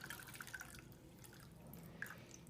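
Magenta cocktail liquid made with cabbage poured through a sieve, landing as soft, faint drips and trickles that scatter irregularly, with a few brighter splashes standing out near the start and end.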